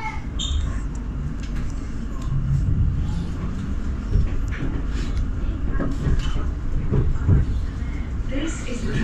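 A Class 710 electric train departs Chingford station with a steady low rumble and rolling wheel noise heard from inside the carriage, with faint rattles and a little background chatter.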